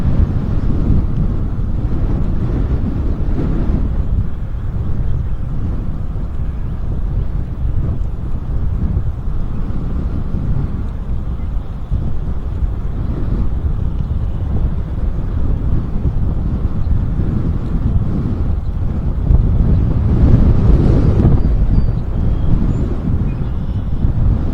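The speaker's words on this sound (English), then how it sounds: "I don't know whether the wind is working for me or against me." Strong wind buffets the microphone on a riverside recreational trail, a steady loud low roar that swells and gusts throughout, with no talking.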